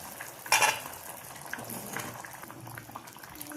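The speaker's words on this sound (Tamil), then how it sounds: "நல்லா கொதி வந்துடுச்சு" Chickpea curry boils in a pot with a soft, faint bubbling, and a brief clatter of a spoon or lid near the start.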